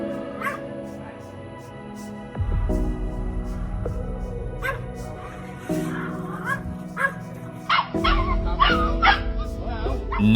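A dog barks and yips repeatedly, with a few whimpering sounds, over a steady music bed; the barks come in short bursts, fairly close.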